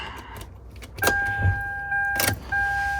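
Power telescoping steering column motor in a Lexus LS400, two short electric whirring runs, each with clicks at start and stop, close up in a quiet car interior.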